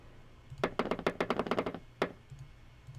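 High heels cursor sound effect from a Mac app: a quick run of about nine sharp, evenly spaced heel clicks, then one more isolated click, crisp and close with no talk.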